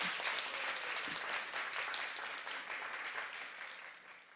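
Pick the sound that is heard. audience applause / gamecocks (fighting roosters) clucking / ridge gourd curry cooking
audience applause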